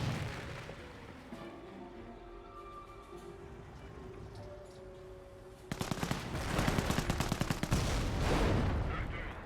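Rapid, crackling bursts of gunfire from a World War II battle in the strategy game Company of Heroes, stuttering in quick clusters over a busy battlefield hum that gets denser toward the end.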